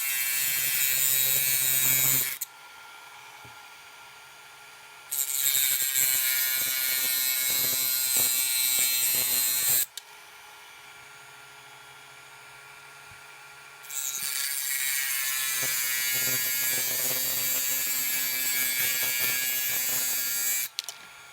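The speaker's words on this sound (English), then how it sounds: "I'm actually going to use my rotary tool and just cut right through them pretty quick" A handheld rotary tool cutting through small pins whines in loud high-pitched bursts, about three long cuts separated by short pauses, close up with no talking.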